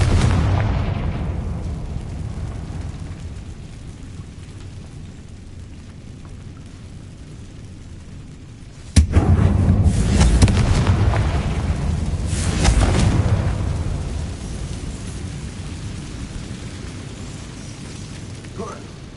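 A Confringo fire spell bursts in Hogwarts Legacy with a sudden loud boom, then a rumbling, crackling blast that swells again and fades, while a voice speaks over it.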